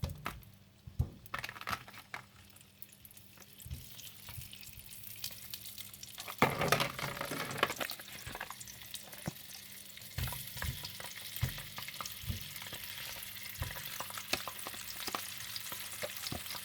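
Merguez sausages fry in olive oil in a cooking pot, crackling and popping quietly at first, then breaking into a louder, denser sizzle with scattered spits and occasional stirring knocks.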